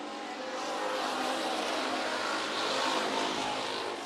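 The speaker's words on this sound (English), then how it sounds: "Look at this line of cars." Hobby stock race cars running in a line at Bakersfield Speedway, a steady, loud engine roar that holds without a break, with no talk over it.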